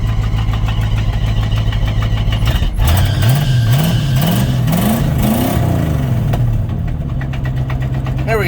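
A 1984 Chevrolet C10 with a 305 V8 cranks over and cold starts, the engine catching with a loud rough idle, a few revs and belts squealing sharply before settling down.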